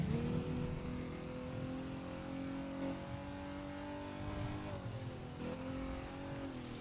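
A car in the racing game The Crew 2, played with a Logitech G29 wheel and shifter, drones at high speed with a steady engine whine that shifts pitch as it accelerates, continuous and fairly quiet.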